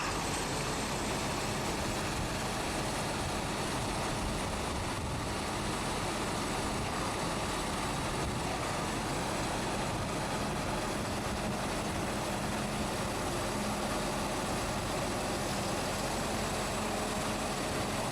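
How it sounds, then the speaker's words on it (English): A New Holland T8 Tier 4 tractor engine runs steadily through a slow, tight turn, a continuous low diesel rumble that stays loud and close with no voices over it. "drive the tractor 180 degrees to see what kind of a diameter we turn"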